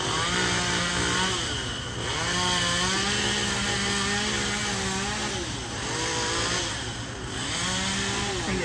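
A chainsaw cutting limbs from a tree fallen across a road near a power line, the engine loud and close, revving up and easing back in repeated cutting passes.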